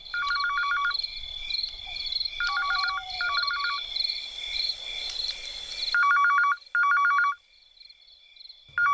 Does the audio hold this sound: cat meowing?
no